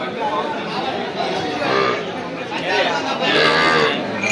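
A cow moos at a busy outdoor cattle market, with people chattering close by throughout.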